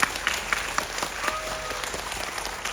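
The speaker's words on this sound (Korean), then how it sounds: "감독님께도 박수 한번" An audience claps steadily at a guest talk event at the Bucheon International Fantastic Film Festival, a dense patter of many hands applauding at moderate volume without any voices.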